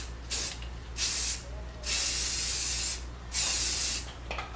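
Spray paint hisses onto a car wiper arm during restoration in four separate bursts, each a sustained close airy hiss with short pauses between, the longest in the middle.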